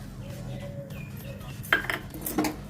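A metal ladle stirring lentil filling for dal puri in a pot, with soft scraping and a couple of louder metallic clinks against the pot near the end, close-up over a low background hum and no talking.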